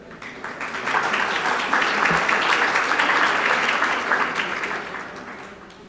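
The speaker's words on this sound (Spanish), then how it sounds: "Vamos a recibirlas con un fuerte aplauso" Audience applause at a behavioral economics and pensions seminar, a broad wash of clapping that swells from a thin start, stays dense and steady through the middle, then tapers toward the end.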